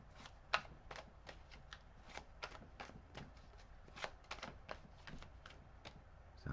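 Tarot cards being shuffled by hand produce soft, quiet riffling and flicking bursts in an irregular rhythm, close and faint with no voices over them.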